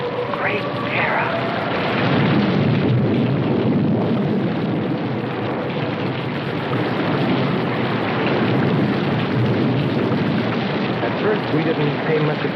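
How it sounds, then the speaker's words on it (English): Dense, heavy downpour hissing steadily with low rumbling underneath, like distant thunder rolling through a storm; loud and continuous throughout. "it seemed heavier than any rain we'd ever seen"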